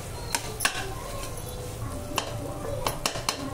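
A spoon stirs tomato pulao gravy with garam masala in a cooking pot, giving a few sharp metallic clinks and scrapes against a low, steady background bubbling.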